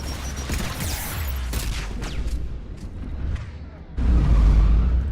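Missiles fired at the player during a Quarian and Geth battle in Mass Effect, heard as a steady rumble of weapon fire and blasts that ends in a loud, deep booming impact.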